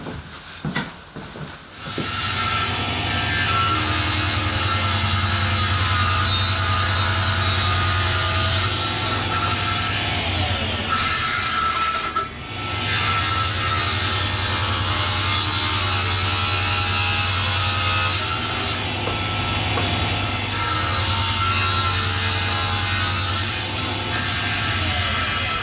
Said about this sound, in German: Sägen wir uns das mal zurecht.